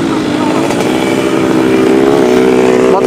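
A 2003 motorcycle engine idles loudly and close by, a steady throbbing rumble with a slight rev near the end.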